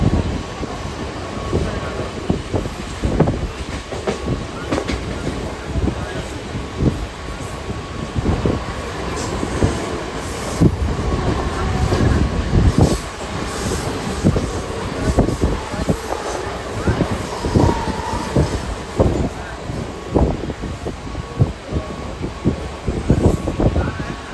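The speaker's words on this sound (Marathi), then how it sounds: "एक अंधेरी स्लो लोकल लागलेली आहे, ती पकडून पुढील प्रवासाकरिता निघणार आहोत" A Mumbai Andheri slow local train at Nalasopara station, a continuous loud rumble with rapid rhythmic wheel clatter and rattling carriages, a faint high whine running above, and no clear talk.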